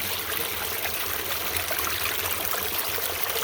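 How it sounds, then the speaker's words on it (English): Water from an artesian spring on a ranch garden plot trickles and burbles steadily into tadpole pools, a close, continuous hiss-like flow with no voices. "So that's the springs."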